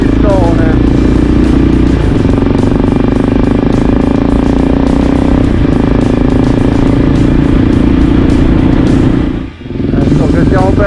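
Motorcycle engine running steadily on a Sardinian mountain road (route 389) during the Motogiro Akimus 2023 ride, a loud continuous drone with shifting revs and a brief dip near the end, heard from the rider's position.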